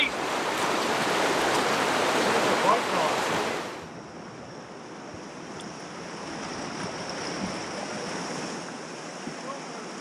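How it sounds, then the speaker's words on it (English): Fast water rushes through a narrow chute of rapids on the Susquehanna River, a loud, steady broadband roar that eases to a softer, continuous wash after a few seconds. "There's a lot of current, a lot of rapids, a lot of fast-moving water down this little chute here."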